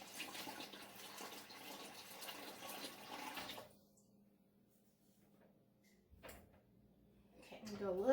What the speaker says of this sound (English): I need to add about 2 inches of water.